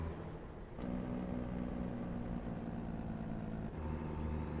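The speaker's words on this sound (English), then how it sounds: "I don't know what the Jake brake sounds like on this" A Kenworth T680 truck hauling a load of metal tubing runs its Jake brake, giving a steady, low, droning engine rumble that holds evenly throughout, close and unbroken, with no voices.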